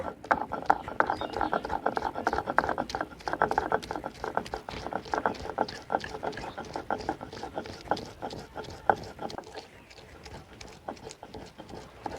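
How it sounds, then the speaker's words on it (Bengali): Ginger and garlic ground into paste on a grinding stone, a repeated rhythmic scraping and rubbing that runs steadily, then softens near the end. "এখন আমি আদা রসুনটা বেটে নেব"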